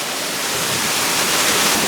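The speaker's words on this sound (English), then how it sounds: "we just came across a waterfall" A waterfall on a steep hiking trail, heard as a steady, dense roar of rushing water, loud and unbroken, with no voices.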